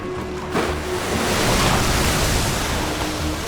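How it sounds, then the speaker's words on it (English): A massive ocean wave crashes and surges near ice floes, a loud broad roar of churning surf and rushing water that builds and then holds steady. "The next second, a massive wave was unleashed."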